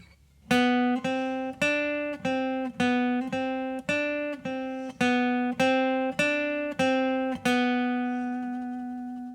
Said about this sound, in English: there's a little lick that they sing and they play on the guitar